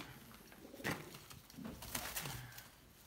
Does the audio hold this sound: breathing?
no